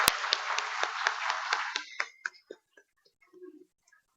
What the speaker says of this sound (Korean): 우리 정식으로 크게 우리 박수 한번 보내드리겠습니다